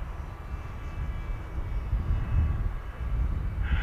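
An AtomRC Dolphin Pro RC plane in flight, flying in elevon mode with a slight thrust-angle adjustment, gives off a distant, steady propeller hum that swells and fades gently, heard alone outdoors.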